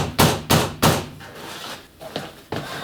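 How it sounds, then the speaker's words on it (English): A rubber hammer knocks a roller part into place while a ProForm elliptical is assembled: three sharp, evenly spaced blows, a pause, then a few lighter taps, all close and clear. "Then you take your rubber hammer,"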